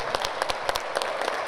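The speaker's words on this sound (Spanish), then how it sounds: "Para que pida un aplauso para recibirlo." A small audience claps to welcome a guest, with sparse, distinct hand claps close by, irregular and loosely spaced rather than a thick ovation.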